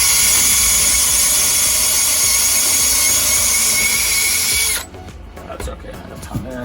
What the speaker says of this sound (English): Pre-drill some holes right here.